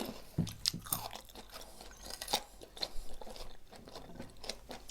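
Crispy fried shrimp being bitten and chewed up close, with a string of sharp crunches spread irregularly through the bite, loud and dry, with no talking.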